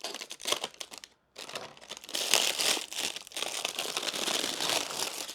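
Plastic packaging from a crochet supply haul is cut and torn open up close, giving a steady crackling crinkle with a brief pause partway through and no talking.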